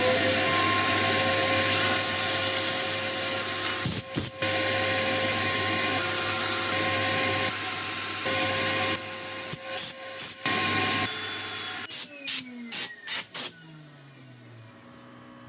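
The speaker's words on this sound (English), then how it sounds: "I shall start sanding" Yellowheart wood sanded on a spinning lathe: a steady, loud whirring drone with a constant motor hum and abrasive hiss, broken by brief scratchy dropouts before the pitch falls away near the end as the lathe slows.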